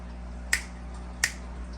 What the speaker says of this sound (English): usually I snap my fingers